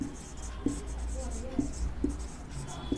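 Pen or pencil writing a geometry solution by hand for a school maths lesson, soft scratchy strokes with a few sharper taps, heard near and steady over a low background hum.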